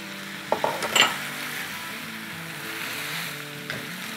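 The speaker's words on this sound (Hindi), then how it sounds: "सब चीज़ों को हम सौटे करेंगे" Chopped purple onion and cabbage sizzle steadily in a hot pan, with a few clattering stirs of a spatula near the start and a soft continuous frying hiss throughout.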